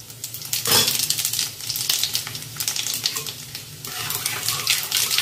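Two dried red chillies and panch phoron spices sizzle in hot oil, a continuous crackling hiss that flares briefly near the start and stays lively throughout.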